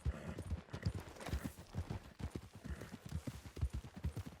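Horse hooves gallop in a steady rapid rhythm in Red Dead Redemption 2, a continuous run of dull thudding beats at moderate distance with no voices.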